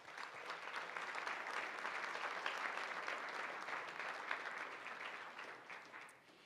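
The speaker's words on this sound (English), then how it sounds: "Please join me in a warm round of applause for all of them." A live audience at a civic forum gives a sustained round of applause for the event's sponsors. The dense, even clapping holds steady throughout and tapers off at the very end.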